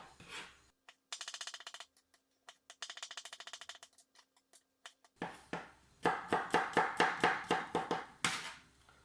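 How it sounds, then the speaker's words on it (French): Garlic being finely chopped with a kitchen knife on a board, a burst of quick close knife taps, a pause with scattered clicks, then a steady run of sharp, evenly spaced chops, loud and near with no talking. "Alors les ails, je les coupe en deux. Et pareil, je coupe assez finement pour éviter qu'on tombe sur un morceau d'ail."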